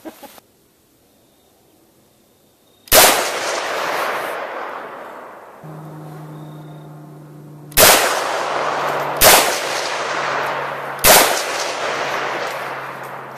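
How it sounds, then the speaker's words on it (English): Four loud, sharp shotgun blasts ring out at an outdoor shooting range in Texas. Each has a long, fading echo, and the shots are spaced a second or more apart after a quiet opening. "Safety off, squeeze the trigger."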